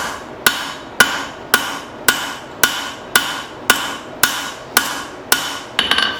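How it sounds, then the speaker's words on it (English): A hammer strikes hot metal held half on and half off the edge of an anvil while forging a spoon: eleven sharp, ringing blows at an even, unhurried pace, close and loud, with no talking. "hitting half on and half off with the hammer"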